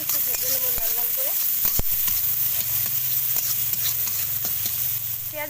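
Onion and garlic fry in oil, an even sizzling hiss with occasional stirring taps running beneath a voice speaking nearby.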